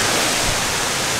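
Powerful waterfall in Chiang Mai, a loud dense roar of crashing water, constant and close with no other sounds.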